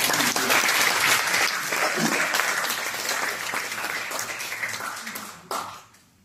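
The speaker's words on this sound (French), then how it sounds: "On t'a applaudi tout le monde." A crowd applauds loudly and steadily, the clapping thinning out and fading to near silence at the very end.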